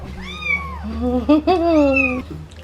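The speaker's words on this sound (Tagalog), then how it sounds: "These are kittens." A kitten meows several times up close, drawn-out rising and falling cries with a couple of short chirps between them and a soft steady background hum.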